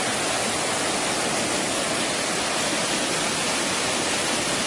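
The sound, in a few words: falling water at a river weir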